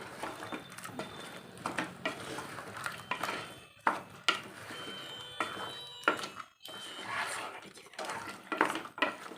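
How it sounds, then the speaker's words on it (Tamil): Coriander powder being stirred into mutton bone kurma in a pot, with repeated scraping and clinking of a spoon against the pan under a voice talking close by. "மல்லித்தூள் போட்டு நல்லா கிளறி விட்டுக்குவோம்"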